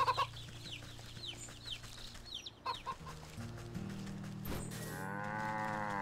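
Chickens and a rooster in the video game Wytchwood cluck in repeated short calls, with a cow lowing and a crow near the end, all over steady background game music and no speech.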